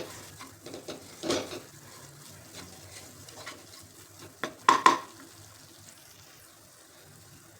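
Wheat flour roasts with ginger-garlic paste in a pan while a spoon stirs it, making soft, scattered scraping strokes and a few louder clanks against the pan over a faint background.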